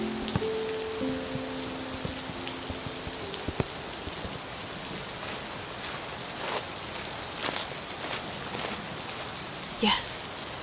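Steady rain falling in a quiet romantic setting, a soft continuous patter with occasional brighter drop sounds, faint and constant throughout with a brief low tonal hum near the start.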